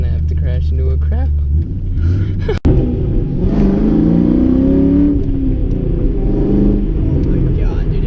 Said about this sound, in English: this car is really good at just getting in a straight line and going